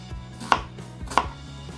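A knife chops an onion coarsely on a cutting board in a kitchen, with two distinct sharp strikes about half a second apart over a faint background hum.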